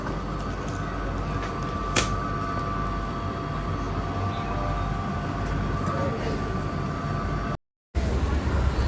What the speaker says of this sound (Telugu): స్కై ట్రైన్ వచ్చింది. స్కై ట్రైన్లో ఇప్పుడైతే మేము మా గేట్స్కి అయితే పోతాం.